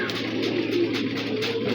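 An alert pigeon near its cage, giving low, repeated cooing calls close by over a steady background hum, with no talking.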